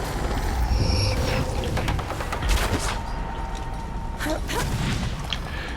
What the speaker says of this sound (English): we got somebody that's attacking, shooting at us